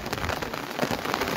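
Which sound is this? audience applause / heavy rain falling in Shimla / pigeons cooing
heavy rain falling in Shimla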